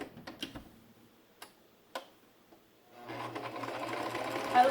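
A sewing machine top stitches a fabric mask, starting with a few separate clicks and taps, then settling into a steady whirring hum with a fast mechanical ticking.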